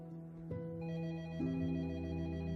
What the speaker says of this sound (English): At around 1 p.m. that day, Myers' phone rang